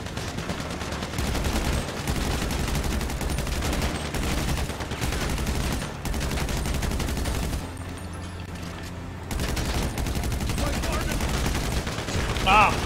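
Sustained GTA gunfire rattles in heavy, continuous automatic bursts, loud and close, with a short lull around the middle before firing resumes and a sharper crack at the end.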